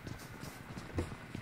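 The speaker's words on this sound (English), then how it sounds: "I hear footsteps on me." Footsteps in an online shooter game tap in a quick, soft, rhythmic series of muffled thuds at moderate distance, faint and alone without talk.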